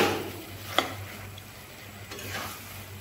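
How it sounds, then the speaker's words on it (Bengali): Red amaranth greens stir-fried in a pan give a soft, low sizzle with a couple of faint scraping stirs, quiet and close. "এইভাবে আমি কষিয়ে নিচ্ছি।"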